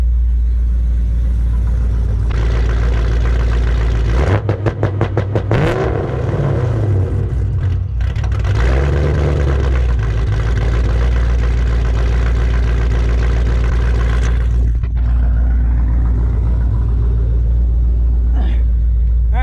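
Ford Shelby GT500 V8 idling with launch control engaged, a loud steady low rumble with a few quick revs held against the limiter near 1700 RPM, engine recorded up close from outside the car.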